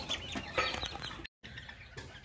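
A flock of ornamental chickens clucking and calling together, a busy murmur of overlapping clucks with a short gap in the middle, moderately near.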